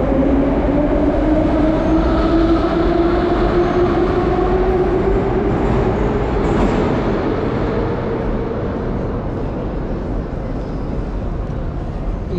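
A metro train in Uzbekistan runs through a station, its loud steady rumble and rising whine of motors filling the space continuously without speech.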